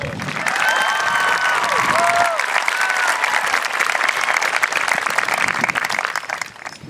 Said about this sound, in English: Please join me as we honor this group with a round of applause.